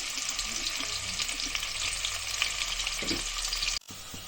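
Onions sizzle steadily in hot oil for biryani, a dense, continuous frying hiss with occasional stirring scrapes, close and unbroken until a brief cut near the end.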